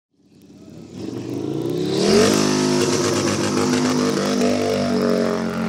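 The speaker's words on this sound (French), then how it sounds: "Je vais rouler à l'Hyperpole sur cette Harley Davidson Bagger de piste" A Harley-Davidson Bagger on a race track revs up hard from a standstill during a timed hot-lap event, its loud, raw engine roar climbing steadily and then holding near the rev limiter, close and continuous with no talk.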